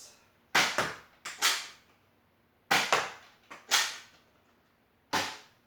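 Gunshot sound effects from an old-school shooting video game where the goal is to hit bottles, coming as sharp cracks alone, first a quick cluster of three, then another group of three and a final single shot.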